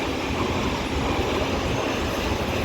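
A London Underground Metropolitan Line train at Dollis Hill station gives a loud, steady roar of running rail noise that fills the whole moment without a break.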